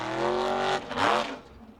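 A Formula Offroad race car called the Viking powers up at the 2023 World Cup, its engine droning steadily and then surging in a louder rising rev before fading, heard fairly close with no talk.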